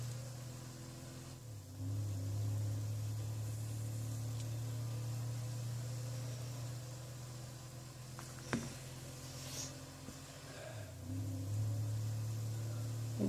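A car engine on a test drive holds a steady low drone throughout, rising in brief revs near the start and again toward the end, with a sharp click partway through.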